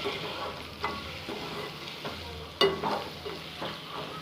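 Egg masala sizzles and fries in a pan while a spatula stirs and scrapes it in a loose, repeating rhythm, with one sharper knock partway through, close and fairly quiet.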